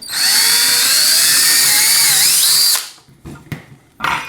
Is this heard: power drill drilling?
yes